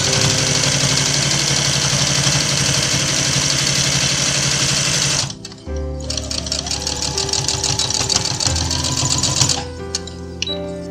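Sewing machine stitching a bar tack down fabric for a handmade stuffed cactus, running steadily and loudly, then pausing briefly and resuming with a busy, rapid mechanical chatter.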